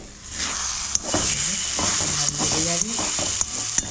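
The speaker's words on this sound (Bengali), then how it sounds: "আমার কচুরির পুর একটু নাড়তে হবে" Kachori filling of spiced beetroot mixture being stirred in a pan over a low gas flame: a continuous hiss of gentle frying with occasional spoon taps and scrapes, overlaid by intermittent voice-like sounds.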